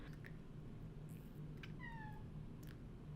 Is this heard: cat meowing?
yes